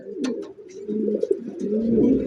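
Racer pigeons, an original racing pair with pomegranate-coloured eyes at a pigeon farm, coo in low throaty rolls with a few brief chirps, close and steady throughout.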